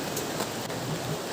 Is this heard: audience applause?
no